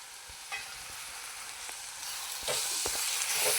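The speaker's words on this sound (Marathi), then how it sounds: "आणि ह्याला पण व्यवस्थित तेलावर फ्राय करून घ्यायचं. असं तेल सुटेपर्यंत आपल्याला मसाला भाजून घ्यायचा आहे." Kashmiri red chili powder, turmeric and garam masala fry in oil with a soft hiss that swells louder toward the end, punctuated by a few light stirring scrapes; nobody speaks.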